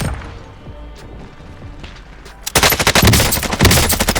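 Gunfire in the video game Warzone: a quiet stretch gives way to a sudden loud burst of rapid automatic fire that rattles on for nearly two seconds, close and harsh.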